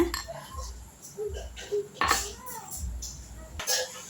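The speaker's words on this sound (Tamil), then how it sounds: "எல்லாத்தையும் போட்டு நல்லா இடிச்சுக்கோங்க இந்த மாதிரி அந்த கிராம்பும் பட்டையும் நல்லா இடி நல்லா மசிகிற மாதிரி இடிச்சுக்கோங்க" Cloves, cinnamon and skin-on garlic pounded in a mortar for masala vadai make repeated dull, close thuds with faint clinks, while a person talks over them.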